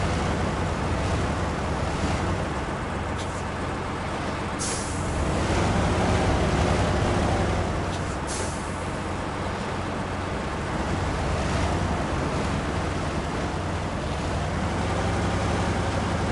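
Truck tires churn through water in the MudRunner video game's The Valley map, a loud, steady rushing wash that surges slightly at times and runs alone without talk.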